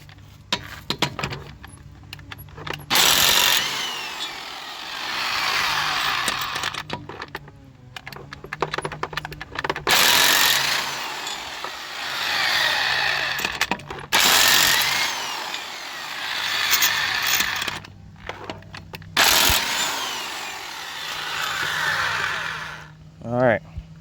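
A Harbor Freight impact wrench removes the brake bolts on a 1998–2002 Toyota Corolla in several long, loud rattling bursts separated by short quiet gaps.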